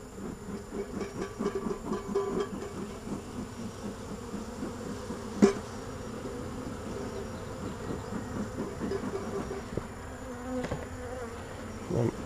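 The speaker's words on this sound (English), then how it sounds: "Look at all these bees." Honeybees swarming from an opened single-deep hive that came through winter strong, a dense, steady close-up buzz that swells and dips in waves, with one sharp knock partway through.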